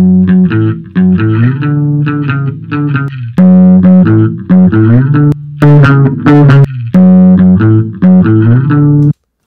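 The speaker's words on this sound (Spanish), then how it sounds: "creo que como que esta distorsión le va mejor, pero en sí está aumentando el contenido de graves, los armónicos" Bass guitar run through a distortion plugin that adds harmonics, playing a loud, punchy riff of sustained and clipped notes with gritty upper overtones and brief gaps between phrases.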